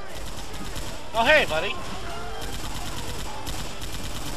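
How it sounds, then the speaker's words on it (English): Rapid mounted machine-gun fire in Left 4 Dead 2 runs steadily under the clip, with a short voice speaking over the shooting. "Just crouch and fire the machine gun."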